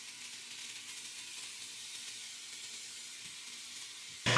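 Frozen burger patties seasoned with Weber Chicago steak seasoning sizzle on a Ninja Foodi grill, a steady even frying hiss that holds throughout before a brief louder clatter at the very end.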